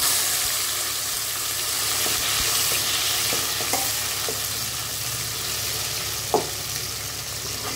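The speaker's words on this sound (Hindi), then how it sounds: "अभी तेल गरम हो चुका है, अभी जीरा जो है भुन चुका है, इसमें डाल देंगे अभी टमाटर और हरी मिर्च" Tomatoes and green chillies tipped into hot oil with toasted cumin give a steady close sizzle and hiss, with a few soft stirring knocks and one brief louder clatter late on.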